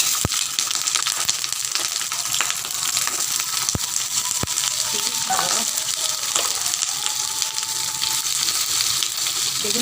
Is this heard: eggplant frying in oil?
yes